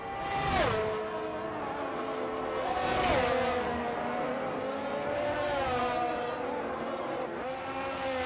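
Race cars roaring around the Bahrain circuit in a racing video game, engines whining up and down through gear changes as cars pass close, with loud continuous revving under faint commentary.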